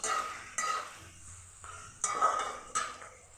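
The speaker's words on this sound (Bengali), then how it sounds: "পেঁয়াজের সাথে আলুটাকে আমি ভেজে নেব।" Cubed potatoes and onions cook in a pan, heard as a few quiet bursts of spatula scraping and stirring against the metal with a faint sizzle between them.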